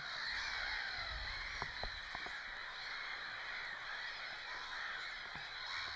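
Geese at a Swedish waterside screaming and honking in a dense, continuous chorus, with several sharper calls standing out above the steady noise of the flock.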